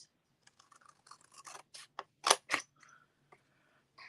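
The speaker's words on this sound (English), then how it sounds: "So I want to cut on this one. I want these to be the flaps. So I'm going to cut this straight." Scissors snip card stock to make card flaps, giving close, quiet, irregular clicks and short crisp cuts that build to a couple of louder snips before trailing off.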